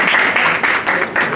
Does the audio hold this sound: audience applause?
yes